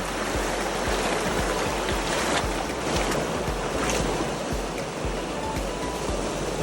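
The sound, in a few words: wading through a cold river on Howse River floodplain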